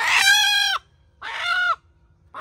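A rooster at a family picnic lets out two loud, close, drawn-out crows in quick succession, each ending with a sharp drop, followed by the start of a third call.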